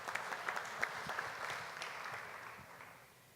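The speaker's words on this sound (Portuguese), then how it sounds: "uma salva de palmas com ela" Audience applause at a branded content forum in Brazil, a steady wash of many hands clapping at moderate distance, tapering off toward the end with no speech.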